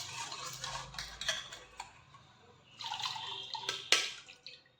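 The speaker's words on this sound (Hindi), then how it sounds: "इसके बाद में इस पानी को अच्छे से छान लेंगे।" Jaggery water is strained through a sieve, making soft trickles, drips and light clinks of a utensil, close and fairly quiet in short bursts.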